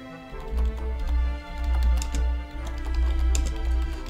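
Rapid typing clatters on a computer keyboard during a Minecraft session, a close, busy run of key presses over a low droning background.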